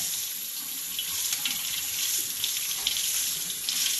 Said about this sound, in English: I run it under some water.